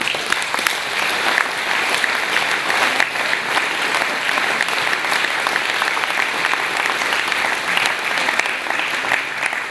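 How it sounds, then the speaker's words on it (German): Strong, sustained applause from a gathered crowd at a Swiss gymnastics club's assembly, greeting the election of a new committee; dense, steady clapping fills the whole stretch at close range with no talk over it. "Applaus."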